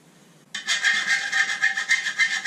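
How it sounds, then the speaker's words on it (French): A tiny fine file rasps along a motorcycle wheel rim to knock off burrs, starting abruptly and continuing in steady back-and-forth strokes, close and fairly loud, with no speech. "c'est une toute petite lime très fine pour éclater toutes les bavures qu'il y aurait éventuellement autour"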